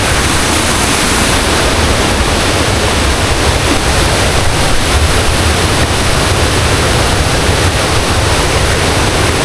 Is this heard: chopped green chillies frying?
no